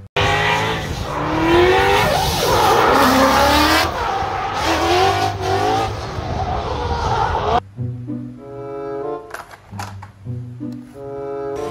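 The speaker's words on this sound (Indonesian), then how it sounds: "Mobil balap." Toy race car with a loud, sustained engine roar and squealing tires for several seconds, then dropping away to quieter, thinner tonal sounds with a few sharp clicks.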